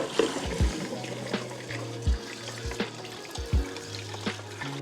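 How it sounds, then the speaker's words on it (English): Water runs steadily from a kitchen tap while cleaned apples are rinsed, with a faint continuous splash broken by a few soft knocks and clunks of fruit in the sink. "we're gonna rinse off our now cleaned apples"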